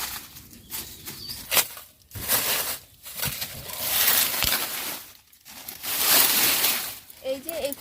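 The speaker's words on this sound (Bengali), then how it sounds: "আজকে আবার এখান থেকে কচু তুলে নেব।" Taro plants pulled up by hand from a garden, with close rustling, crinkling leaves and tearing roots in uneven bursts amid soft handling noises.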